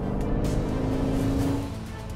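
An Aston Martin DB11 V8 engine hums steadily at close range while driving, a low droning tone that holds even and then eases off slightly toward the end.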